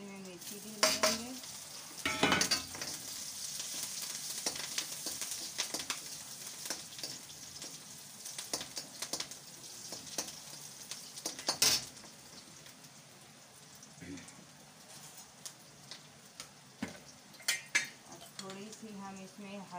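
Ridge gourd peel bhujia sizzles in a pan as a spoon stirs and scrapes against the metal in repeated bursts, a steady frying hiss underneath throughout.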